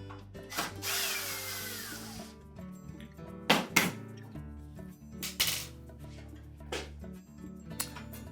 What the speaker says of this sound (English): So next we'll remove the two retaining screws for the inner panel.